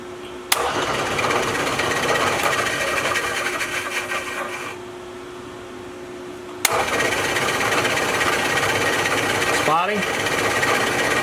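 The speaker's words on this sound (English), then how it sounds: "now I'm going to go ahead and use the Bridgeport just to drill those out" A Bridgeport milling machine motor running with a steady mechanical whine while drilling holes in pump parts, briefly easing off before starting up again with a sharp click.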